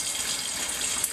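A tap runs steadily onto outdoor gear being washed with a tech wash, giving a close, even splashing hiss with a faint drip near the end and no talk.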